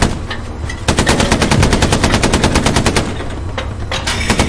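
Rapid machine-gun fire from a tank in the World War II video game Hell Let Loose rakes a warehouse, a loud, close, evenly spaced burst of shots lasting several seconds.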